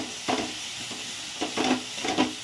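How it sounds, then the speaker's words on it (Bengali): Spices with turmeric fry in oil for a simple egg curry, a soft steady sizzle broken by three or four short stirring scrapes of a spoon, close and without voices. "মশলা ভালো করে ভাজা ভাজা হয়ে গেছে,"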